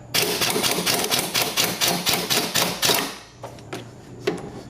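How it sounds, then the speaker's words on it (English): An impact wrench snugs the top rear shock mounting screws on a Challenger during an Eibach suspension install, giving loud rapid hammering bursts for about three seconds, then a few short taps and clanks. "I'm just running snug with the impact."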